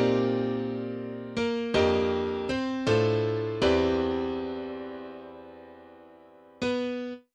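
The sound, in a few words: color bass jazz chord progression in 5/4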